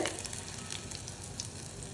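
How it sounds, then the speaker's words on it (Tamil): Chicken frying in oil, giving a steady, even sizzle and crackle that stays fairly quiet throughout, with no voices. "இந்த மாதிரி எண்ணெயில் வந்துட்டு ஃப்ரை பண்ணிக்கோங்க"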